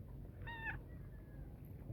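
A single short cat meow, clear and fairly close, followed by a fainter drawn-out tone, over a low steady background rumble.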